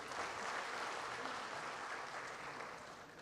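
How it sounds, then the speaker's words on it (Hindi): At a regional official language conference, the audience welcomes guests with dense, continuous applause that sounds somewhat distant, steady throughout and tapering slightly at the end, with no talk over it. "आप जोरदार तालियों से स्वागत करें"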